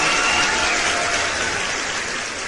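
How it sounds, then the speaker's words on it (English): A summit audience applauds: dense, steady clapping from many hands, loud and close, dying away slightly at the end with no voices over it. "We have a round of applause."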